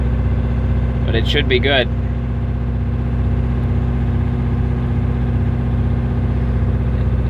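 A Detroit 8V92 diesel engine in a Peterbilt 359 under restoration idles steadily and loudly with an even, throbbing pulse, while someone speaks briefly over it near the start.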